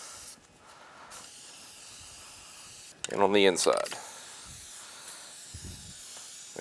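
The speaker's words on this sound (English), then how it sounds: "You don't want to spray it on too thick." A few short hissing bursts of filter oil sprayed from an aerosol can onto a 2005 Honda VTX 1800 motorcycle air filter nearby, with a voice speaking briefly between them.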